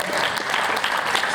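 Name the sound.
audience applause for the New Zealand crew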